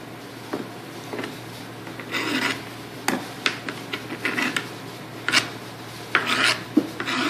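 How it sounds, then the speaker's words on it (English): Chopped cabbage for coleslaw is scraped off a knife with its back into a bowl, a series of short raspy scrapes and scuffs in irregular bursts, close and clear with no talk. "We're going to scrape it off our knife, use the back of our knife,"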